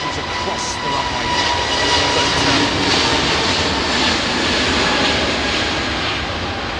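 A jet aircraft roars steadily at windy London Heathrow Airport, loud and sustained, with wind buffeting mixed into the engine noise.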